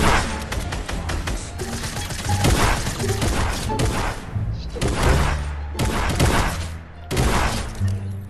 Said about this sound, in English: Jesus Christ, I shot that